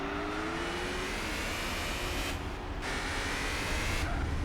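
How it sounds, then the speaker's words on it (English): A small four-cylinder car engine drones steadily in Gran Turismo 4, a thin, buzzy, constant note with brief dips in its upper hiss, close and continuous. "It sounds like a little 4-cylinder or something, not like a V8"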